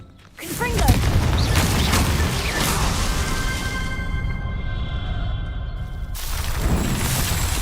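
A Confringo blasting spell fires in Hogwarts Legacy, a loud booming burst with crackling debris that rings on for several seconds amid game sounds.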